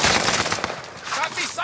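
Rapid automatic gunfire in the Call of Duty: Modern Warfare video game, a dense close burst of shots that continues throughout, with some speech faintly mixed in.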